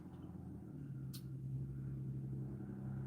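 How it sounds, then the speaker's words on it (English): Cars passing outside a room, a low steady rumble of road traffic with a faint swell as one vehicle goes by, distant and muffled throughout. "Y'all hear them cars outside?"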